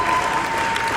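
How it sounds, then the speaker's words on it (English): Audience applause at the Autosport Awards, a dense, loud, continuous burst of clapping from a large crowd, lasting about a second. "a round of applause for that,"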